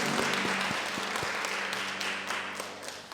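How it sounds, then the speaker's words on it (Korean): A church congregation applauds during a Korean Sunday morning worship service: soft, fairly distant clapping that fades gradually over a few seconds, with some sharper individual claps standing out. "우리 하나님께 정말 영광의 박수를 드립니다."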